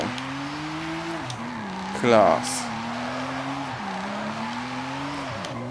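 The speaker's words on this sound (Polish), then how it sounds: "Nie ma muzyki w tle, żebyście posłuchali też silnika" A Ford F-5 V12 drift car in Forza Horizon 5 holds a steady droning engine note that dips and rises through gear changes, with a short loud tire squeal midway, while someone briefly speaks.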